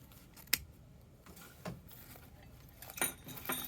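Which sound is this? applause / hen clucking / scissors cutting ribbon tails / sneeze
scissors cutting ribbon tails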